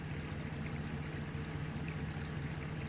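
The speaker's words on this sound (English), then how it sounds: "there must just be enough flowing water through here that" Water flows through a creek that stays unfrozen in very cold weather. It makes a faint, steady trickling rush that runs on evenly with no other sounds.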